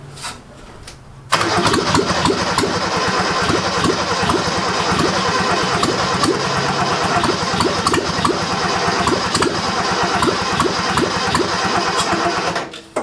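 A 1977 F10 engine cranks and catches after a quiet start, then runs loud and steady with a rough, pulsing idle for the rest of the stretch, no voices over it.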